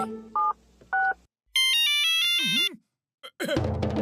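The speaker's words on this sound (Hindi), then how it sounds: "हम सबको फोन कर करके यहाँ बुलाएंगे" A telephone dials with short electronic keypad tones, then a ringtone melody plays, followed by a brief warbling electronic tone, all clear and close.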